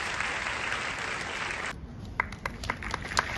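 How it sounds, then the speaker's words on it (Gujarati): Applause from an audience of anganwadi workers at an appointment-letter ceremony, a dense steady wash of clapping that cuts off sharply partway, followed by a few scattered individual claps. "જોરદાર તાળીઓ થઈ જાય."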